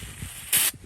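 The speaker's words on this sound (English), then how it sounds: "Let's push it until it starts to spritz." A short spritz of brown patina spray paint from an aerosol can onto a motorized bike, one close, bright hiss about a fifth of a second long over a quiet room.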